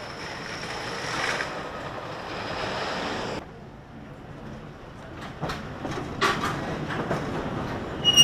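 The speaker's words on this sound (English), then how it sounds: "Hades goes up this lift hill." Hades wooden roller coaster climbing its lift hill at an amusement park, a steady distant mechanical rumble and rattle that drops away midway, followed by scattered clanks and hisses.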